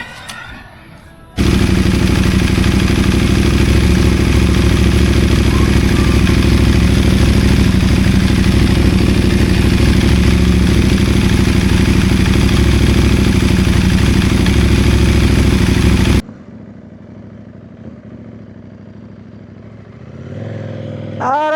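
A CFMOTO 800NK motorcycle engine idles loudly and steadily for about fifteen seconds with a low rumbling clatter, then cuts off abruptly, leaving quiet background.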